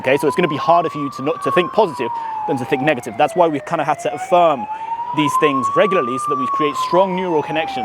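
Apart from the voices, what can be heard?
ambulance siren passing outside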